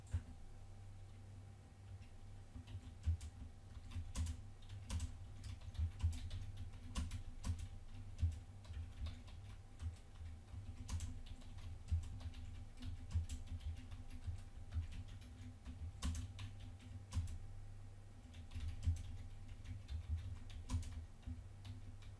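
Quiet, steady clicking of a computer keyboard as text is entered on a CNC shear control, irregular taps with occasional sharper key strikes over a low electrical hum.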